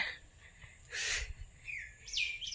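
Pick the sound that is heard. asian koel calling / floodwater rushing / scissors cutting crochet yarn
asian koel calling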